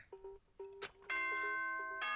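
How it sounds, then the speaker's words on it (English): Doorbell-like chime in the Danganronpa video game, a few short ringing tones followed by a sustained, louder multi-note chime, clear and alone without talk. "Ding dong bing bong."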